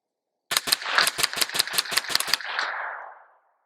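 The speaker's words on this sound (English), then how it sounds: "Let's see how fast I can dump this mag." A pistol fitted with an Elfmann ELF Match trigger is fired rapidly to empty a magazine. About ten sharp, loud shots come in quick succession, and their echo trails off after the last round.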